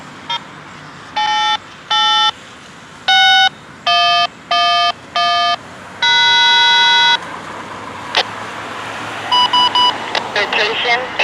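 A railroad crossing signal at location 8861 activates for a VIA Rail passenger train with a P42 locomotive, sounding loud, bright electronic ding bursts in an uneven on-off rhythm that turns into a quicker flurry of strikes near the end.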